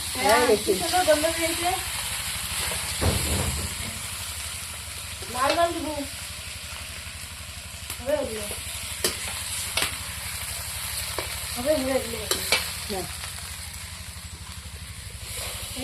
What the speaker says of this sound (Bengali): এখন আমি টমেটো পেস্টটা দিয়ে দিব